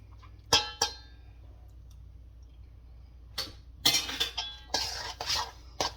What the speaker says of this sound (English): I always try to stir it up good and go to the bottom.